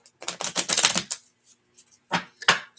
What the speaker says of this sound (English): Meanwhile, I'm going to continue shuffling.